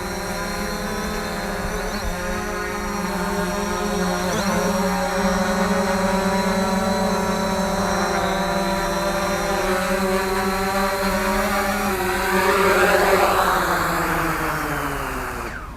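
A camera drone, either a Hubsan Zino Pro or a FIMI X8 SE, lands outdoors with a loud, steady propeller whine. Its pitch drifts and then drops at the end as the rotors spin down.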